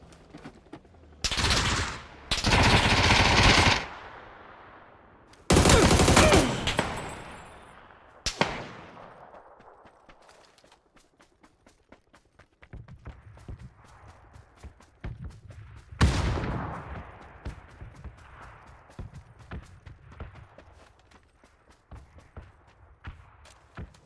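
FAMAS rifle bursts crack in PUBG: several loud rapid volleys in the first few seconds, more bursts, then quieter scattered shots and footsteps trailing off.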